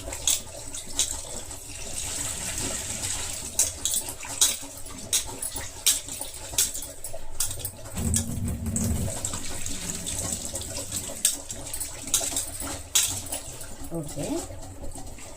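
Raw chicken is rinsed under running tap water, making a continuous splashing hiss with occasional clinks and handling noises, while a voice is faintly present in the background.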